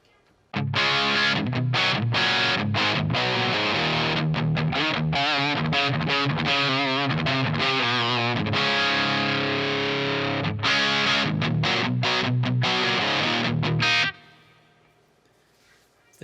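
A distorted electric guitar plays through an EVH greenback cab simulation on a Line 6 Helix with P90 pickups, giving loud, chugging palm-muted riffs and ringing chords for about fourteen seconds before fading out.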